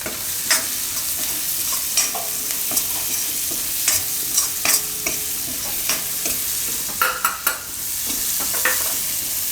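Onion frying in a pan for a Gujarati winter vegetable soup, a steady bright sizzle with repeated stirring scrapes and clinks of a spoon against the pan throughout.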